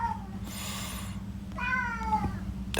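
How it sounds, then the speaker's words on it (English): A house cat meows twice, loud and close, waiting for an automatic pet feeder to dispense food, over a steady low electrical hum. "he's meowing because his food comes out of the feeder soon, the auto feeder"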